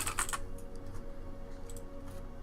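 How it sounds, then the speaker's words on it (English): Quick, light clicks of someone typing on a computer keyboard, a close burst at the start then sparser taps over a faint steady hum. "you can literally type out your deck list"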